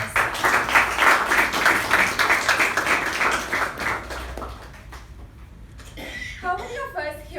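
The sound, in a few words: audience applause welcoming speaker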